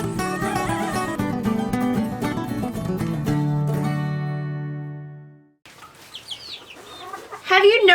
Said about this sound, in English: Have you noticed your chickens rolling around in the dirt?